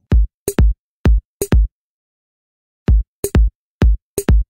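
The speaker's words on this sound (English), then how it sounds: "The drums!" Drums from a Dora the Explorer music game sound a simple pattern of loud, punchy hits in two groups of five, paired beats with a pause between phrases, clean and alone.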